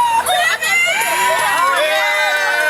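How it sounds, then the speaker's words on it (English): Wrestling live-event crowd cheering and screaming for Behemoth in an arena, a loud sustained roar of voices with whoops throughout. "This could possibly be Behemoth country here as they cheer him on"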